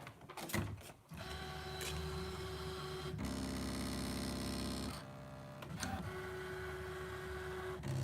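Brother ScanNCut machine cutting card, a steady mechanical motor whir with a faint tonal hum that shifts in pitch as the carriage moves, plus brief clicks and pauses, quiet and close with no voices.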